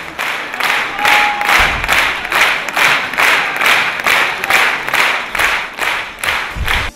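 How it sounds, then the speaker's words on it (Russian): An audience applauds an Ingush state dance ensemble at a concert, clapping loudly in unison to a steady, regular beat of rhythmic bursts throughout. "публика бурно аплодирует после каждой секундной паузы, не дожидаясь завершения выступления"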